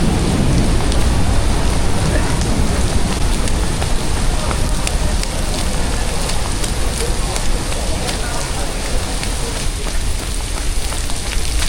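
Heavy rain pours during a thunderstorm at Hong Kong harbour, a dense, loud, continuous wash with low rumbling beneath it, while a person talks through the downpour.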